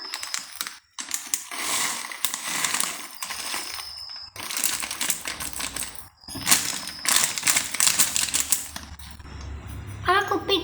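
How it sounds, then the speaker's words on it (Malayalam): Lays potato chips tumble into a bowl of omelette egg mixture, making close, crinkly crackling bursts in several separate pours with short pauses between them. "നമുക്ക് ഇതിനകത്ത് ലേസ് ഇട്ട് കൊടുക്കാം."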